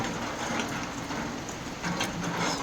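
Rain falls on ducks and a pond in an even, continuous patter and hiss that stays fairly quiet and steady throughout, with no voices.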